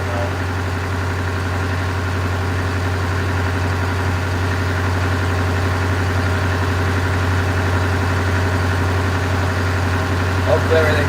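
A truck engine idles steadily after fuel pump and injector repairs, giving a loud, constant low hum with a faint even vibration throughout and no change in speed.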